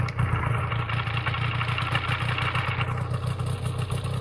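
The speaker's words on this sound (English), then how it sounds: "Then we turn the engine on." Small ultralight aircraft engine running steadily in the UltraWings VR flight game, a loud continuous buzzing drone with a rhythmic low clatter, close and alone without voices.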